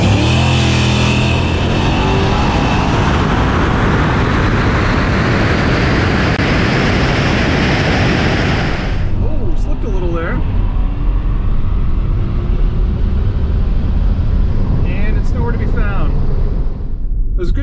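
A drag racing station wagon's engine roars loud and close at full throttle down the strip, a dense sustained blast that cuts off about halfway, followed by idling rumble and voices talking nearby.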